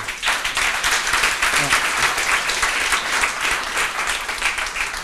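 Audience applause at the opening of a corporate Atlassian Enterprise Club Jira conference in 2019, a dense, steady wash of many hands clapping that holds at an even loudness throughout, with a few voices faintly underneath.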